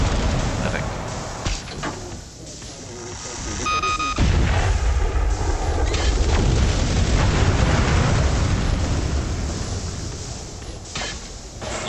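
Heavy booming explosions and blasts from a smart bomb in the mobile shooter Tacticool, a loud sustained rumble swelling midway, with gunfire bursts and players talking throughout.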